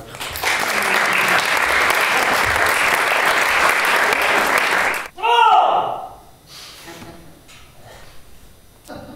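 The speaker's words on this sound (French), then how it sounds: "On peut vous applaudir." Audience applause in a French first-year public class, a loud dense burst of clapping lasting about five seconds and then cutting off abruptly, followed by quieter voices talking.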